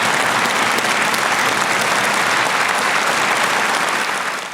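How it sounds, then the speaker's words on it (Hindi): Sustained, dense applause fills the hall at the Nobel Peace Prize ceremony in Oslo, a large audience clapping steadily and loudly for several seconds before beginning to fade. "जैसे ही कैलाश सत्यार्थी मंच पर पहुंचे, तालियों की गूंज ने भारत का सिर गर्व से ऊंचा कर दिया।"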